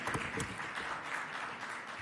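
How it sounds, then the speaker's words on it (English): An audience at the official launch of a medicinal cannabis permit programme claps for its chairwoman, a faint, fairly distant spatter of many hands with a few sharper claps near the start. "Ladies and gentlemen, can we please applaud once more our chairwoman,"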